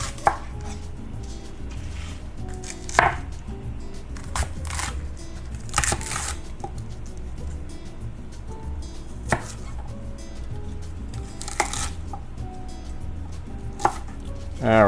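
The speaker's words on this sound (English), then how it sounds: "the first thing we're gonna do is chop the bok choy" A knife chopping baby bok choy on a cutting board, a handful of spaced, crisp thuds at irregular intervals over a quiet kitchen background, no one speaking.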